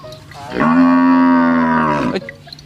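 A tame cow on a Thai cattle farm gives one long, loud, sustained moo lasting about a second and a half, close to the listener, with no talking over it.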